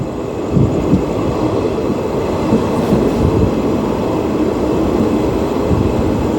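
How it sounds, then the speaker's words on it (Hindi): A train pulls into Sonepur railway station in Odisha, arriving from Bolangir, giving a steady, loud low rumble of wheels and carriages that continues throughout with no talking. "सोनपुर रेलवे स्टेशन भीतर के एंट्री करमा"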